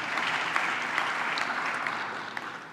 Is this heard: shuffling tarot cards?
no